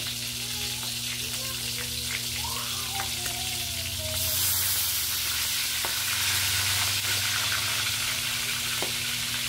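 Pork frying in a pan gives a steady, close sizzle and crackle that swells louder partway through, with no talk over it.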